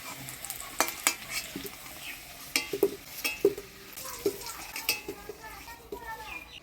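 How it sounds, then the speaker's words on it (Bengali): Potatoes frying in oil in a pan, a low sizzle under intermittent clinks and scrapes of a spatula stirring, with faint background voices. "আলুগুলো ভাজি নিলাম লাল করে এবার তুলে নেব"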